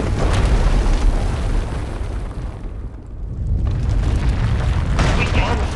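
A rumbling, roaring eruption and explosion engulfing an asylum in a fantasy game, loud and continuous with a brief dip midway before surging again, a voice speaking over the blast.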